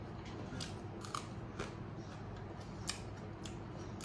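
Several faint, close crisp crunches come from biting into a raw green chili against a low background murmur.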